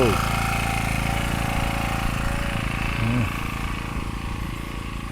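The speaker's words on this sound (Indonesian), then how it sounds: "untuk supply listrik di sini sudah ada genset merek Tiger" A Tiger brand generator set running at a resort, a loud steady engine drone with a constant low rumble, a person speaking over it briefly partway through.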